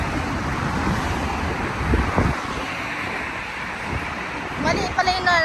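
Strong wind blows at the seaside in the UAE, a continuous gusty roar that buffets the microphone with rumbling surges, and a brief voice comes in near the end.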